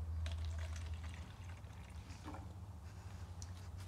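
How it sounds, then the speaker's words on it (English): Water poured into a soil-filled container in a small soil buffer setup, a steady close splashing pour with a low rushing body that eases slightly partway through, with no voices. "then you'll pour the rest in to see how much water got stored in the soil"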